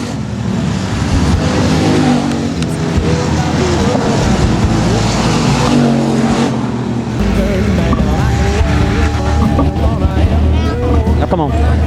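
Race cars roar around the oval at Texarkana 67 Speedway, a loud continuous engine drone with rising and falling passes, crowd and announcer voices mixed in throughout.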